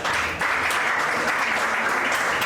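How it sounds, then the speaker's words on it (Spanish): An audience at a book presentation at a book fair claps in sustained, dense applause, loud and even for a couple of seconds. "Lo recibimos con un fuerte aplauso."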